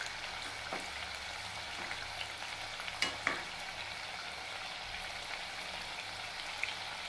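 Sweet pumpkin pakoras (gulgule) fry in hot oil, giving a steady bubbling sizzle with a few sharp crackles and light taps throughout, and no one speaks.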